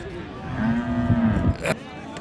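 A Friesian cow lets out a single low, drawn-out moo close by at a cattle market in Raniganj, Dinajpur, with faint background murmur around it.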